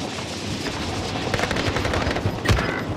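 Rapid automatic gunfire from the Call of Duty video game rattles in dense bursts for about three seconds, loud and close, with a heavier shot or two near the end.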